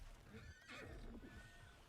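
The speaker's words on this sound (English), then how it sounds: "Look at my pink fucking horse." A horse neighs in the MMO game Throne and Liberty, a high whinny with shaky tones that rises then trails off, followed by a second thinner call, heard over muffled low rumbling and faint hoof-like clatter.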